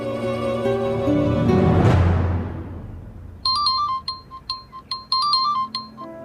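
A phone rings on a call with a repeating electronic ringtone, a series of bright, chiming pulses in a steady rhythm that follows a fading musical swell.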